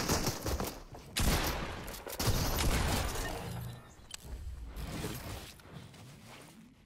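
Gunfire from the video game Fortnite comes in dense, loud bursts of shots and impacts, with a break near one second, then continued firing that thins toward the end, with no talk over it.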